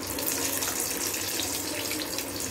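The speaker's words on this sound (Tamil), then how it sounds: "அதை நம்ம பொறிச்சு எடுத்துக்கலாம். மெதுவாக போடுங்க." Egg vada made from leftover rice fries in hot oil, giving a steady, dense sizzling hiss that stays even and fairly quiet throughout.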